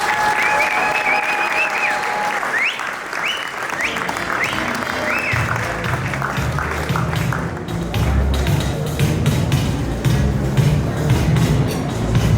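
A large audience at a 2019 Business Man of the Year event applauds William Benson with loud, sustained clapping that fills the whole stretch without a break.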